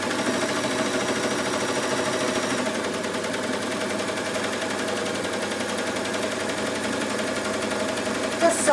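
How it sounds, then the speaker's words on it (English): A Bernette b62 coverstitch machine runs a row of stitching, a continuous close mechanical whir with a rapid needle chatter, steady throughout, with a small clack near the end. "I'm just going to do another row of stitching."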